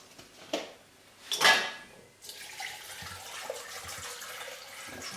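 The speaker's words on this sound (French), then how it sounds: "je vais rajouter à peu près 75 centilitres d'eau" Spring water pours into a blender holding coconut pieces: a couple of light knocks and handling clatters come first, then a continuous close splashing pour runs to the end.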